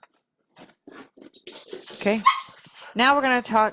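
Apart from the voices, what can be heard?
dogs barking in the background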